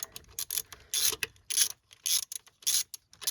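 Ratchet with an extension working loose a tight spark plug on a 2000 Ford Crown Victoria police interceptor, a run of quick clicking bursts close by with short pauses between, no talking.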